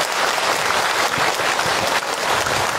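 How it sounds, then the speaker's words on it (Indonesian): Loud, dense applause from an audience at a religious talk, continuous clapping filling the whole stretch with a crowd murmur underneath. "Tepuk tangan untuk kita semua."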